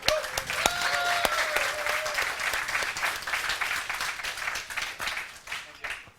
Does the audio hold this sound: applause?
yes